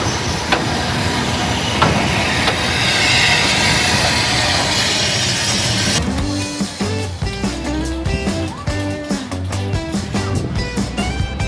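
GB Railfreight Class 66 locomotive train passing close by, a loud broad rumble and hiss that shifts partway through into rhythmic clattering of wagons rolling past, with no talking.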